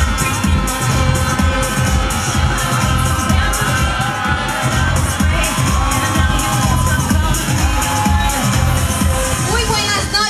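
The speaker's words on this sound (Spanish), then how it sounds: "Recibámosla con fuertes aplausos." A pageant audience applauds and cheers as a queen candidate is called to the stage at a local town beauty contest, a dense, continuous wash of clapping and crowd noise at close, loud level.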